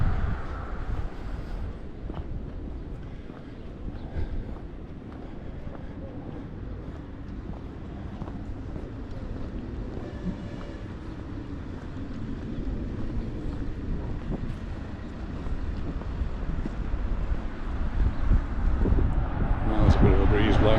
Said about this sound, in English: Bit of a breeze blowing.